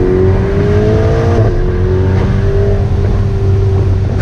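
A 2018 Ferrari Portofino's 3.9-liter bi-turbo V8 revs loud and close, a deep steady growl whose pitch climbs slightly and then settles.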